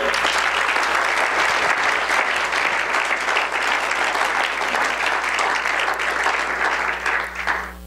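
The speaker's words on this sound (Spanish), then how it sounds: "Un aplauso al Rey." A church congregation applauding during a sermon about Jesus Christ, a sustained wash of clapping from many people that thins slightly toward the end.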